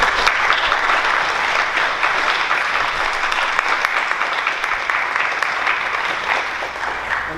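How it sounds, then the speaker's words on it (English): Sustained applause from a large audience at a school board meeting, steady and dense clapping that holds at an even level throughout before easing slightly at the end. "would you give this group another round of applause?"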